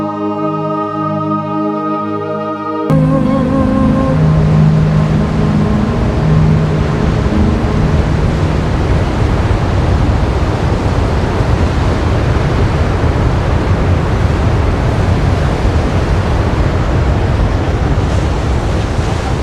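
Sea waves at the end of the Camino pilgrimage route surge in a loud, continuous wash with wind buffeting the microphone, following a few seconds of sustained tonal music at the start.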